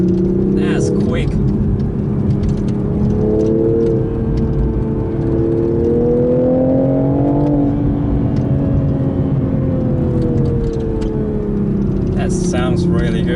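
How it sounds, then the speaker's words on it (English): A 2021 Toyota GR Supra GTS with a 3-liter turbo inline-six pulling hard under acceleration, engine drone rising in pitch and easing off, loud and continuous from inside the car, with brief speech at the start and end. "Sounds really good from the 3-liter turbo inline 6."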